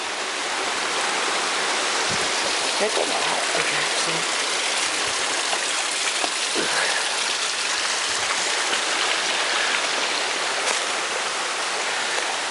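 Clear stream water flowing steadily at Carter Caves in Kentucky, a constant close rushing babble; a voice speaks briefly over it.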